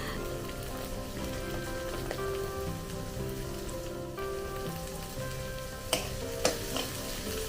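Minced garlic, chopped fresh beans and carrots sauteing in a pan, a steady close sizzle with occasional stirring clatter and no talking.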